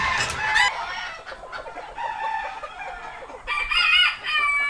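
Cochin bantam hen clucking loudly and close, a run of rhythmic clucks and crowing-like calls with other fowl sounding around it.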